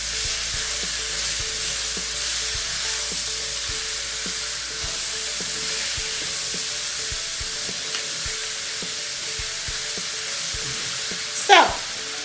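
Steak sizzles in a hot pan with a steady, close hiss, broken by soft clicks and taps of stirring and a brief louder scrape near the end.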